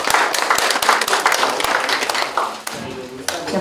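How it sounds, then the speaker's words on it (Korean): An auditorium audience at an industrial complex award ceremony breaks into dense, lively clapping that fades after a few seconds, with a voice speaking over it. "여러분 큰 박수 부탁드립니다."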